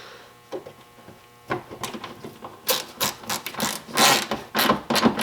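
A tool cuts into the front fender of an SC300 car, giving bursts of rapid ratcheting, grinding clatter that start faint and grow louder and more continuous toward the end.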